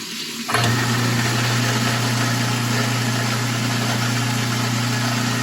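An InSinkErator garbage disposal under a kitchen sink switches on abruptly after a brief quiet moment, then runs with a steady loud motor hum and whir, close and alone.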